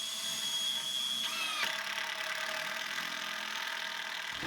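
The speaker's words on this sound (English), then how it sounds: "drill a hole through our top plate here into this 2x4" A power drill runs steadily, pitch shifting and dropping briefly as it bites through a 2x4 wall top plate, then continues evenly before stopping.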